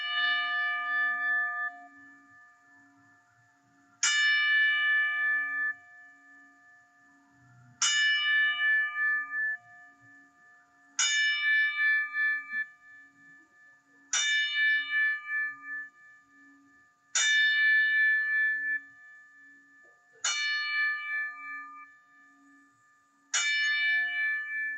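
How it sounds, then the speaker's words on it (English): A bell rings out in a steady ten bell salute, each strike clear and ringing with a long fading tail, evenly spaced about three seconds apart, with a faint steady hum underneath. "And Mad Sticks, if you can do the 10 bell salute for us, my friend, that would be great."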